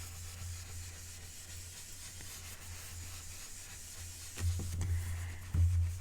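Soft continuous rubbing of an ink blending brush worked in small light circles over paper, a faint steady brushing hiss with a couple of slightly louder swipes near the end.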